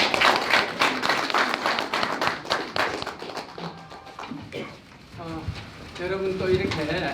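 Audience at a New York Korean-American society founding ceremony claps to welcome the chairman, a brisk burst of applause that fades out midway, followed by a voice speaking.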